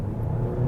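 A compact SUV pulls hard at full throttle, giving a brief, steady, loud engine drone and rumble heard from inside the cabin, with a slight swell near the end.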